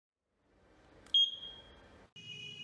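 An electronic metal detector buzzer beeps in a steady high tone, then stops briefly and resumes with a slightly lower, continuous beep over faint background hum.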